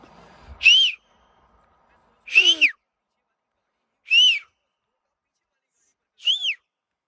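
Four sharp, high finger whistles, each a short rising-falling blast, spaced about two seconds apart with silence between.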